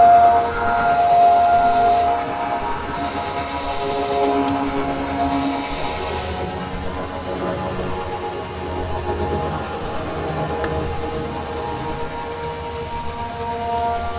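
A dense, droning electronic texture of layered sustained tones with a metallic shimmer, swelling and churning like a building feedback loop.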